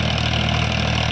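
A Farmtrac 45 tractor working a sugarcane field with a rotavator runs with a steady, loud, close diesel drone and an even low throb throughout.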